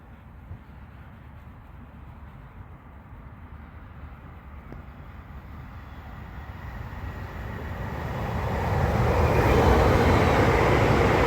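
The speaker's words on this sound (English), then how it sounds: "And now on the approach is an LNER Azuma." An LNER Azuma train approaches at Colton North Junction, starting as a distant, steady rumble that grows gradually louder and brighter into a broad roar as it draws near.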